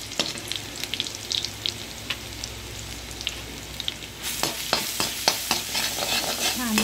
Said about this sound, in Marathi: हे आलं लसूणची पेस्ट टाकते।